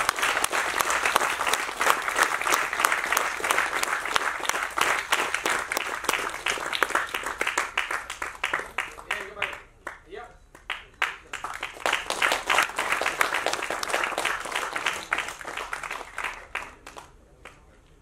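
Hall audience at an award ceremony honouring social-welfare contributors, backed by actor Karthi, breaks into loud sustained applause that dips briefly near the middle, then surges again before tapering off.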